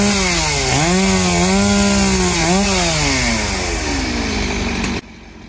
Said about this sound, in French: les apporter jusqu'à la scierie de Richard et couper toutes les planches